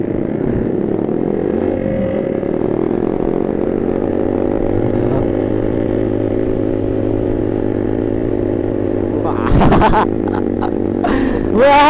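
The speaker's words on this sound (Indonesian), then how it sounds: "knalpotnya bacot bener." A Kawasaki Ninja motorcycle's loud aftermarket exhaust drones steadily during a Sunday group ride, a sustained engine rumble that rises as it revs near the end, with wind buffeting and clatter around it.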